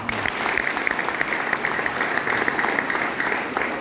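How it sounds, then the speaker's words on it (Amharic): An audience claps at a graduation ceremony, a dense and sustained round of applause at steady volume with no voices. "እስቲ አጨብጭቡላቸው"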